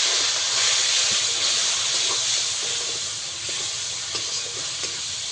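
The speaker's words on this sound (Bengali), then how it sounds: "এবার কয়েক সেকেন্ড ভালো করে আমি কষিয়ে নেব মশলাটাকে।" Ground spice masala with chilli and coriander powder and a splash of water sizzling in a pan, a steady hissing fry with light stirring scrapes, close and continuous, no voices.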